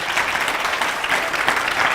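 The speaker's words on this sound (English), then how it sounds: "Give them a round of applause." Audience applause fills the room at a business interview event: a dense, steady wash of many hands clapping close by, with no pause across the short stretch.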